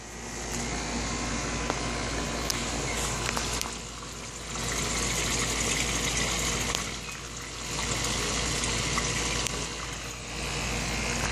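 Water streaming steadily through a cleared main drain line, a continuous rushing, gurgling flow that rises and falls in surges over several seconds, close and fairly loud, with no voices.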